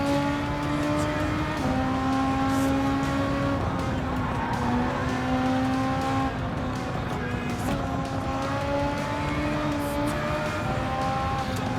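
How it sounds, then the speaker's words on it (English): Race cars in Gran Turismo 7 roar steadily as a pack, engine tones shifting and dropping as they brake, with faint tyre squeal; loud and continuous throughout, no talking. "See how they hit that brake."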